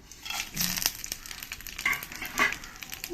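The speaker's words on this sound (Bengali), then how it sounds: "তেলের মধ্যে দিয়ে দেবো তেজপাতা শুকনো লঙ্কা গোটা মশলা আর এক চামচ জিরে" Bay leaf, dried red chillies, whole spices and cumin hit hot mustard oil, giving a close crackling sizzle with a few sharper spits and stirring scrapes over about three seconds.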